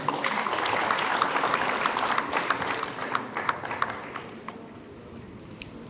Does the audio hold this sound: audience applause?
yes